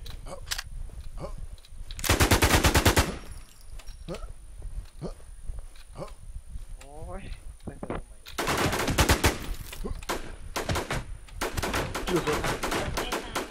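Rapid machine gun bursts rattle in a shooting video game, two long loud volleys separated by quieter shots and game effects, while people talk over the action.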